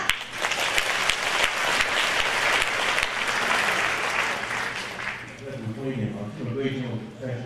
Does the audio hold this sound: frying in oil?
no